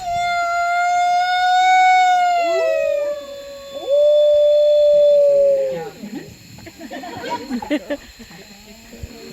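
Wolves at Wolf Park howl together in long, sliding tones, loud and close, before the chorus breaks up into scattered yips and whines as people chatter in the background.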